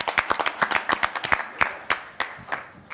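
A small audience at a prophecy round-table gathering claps, sparse individual hand claps in an uneven patter, fairly quiet and close, with no one talking over it.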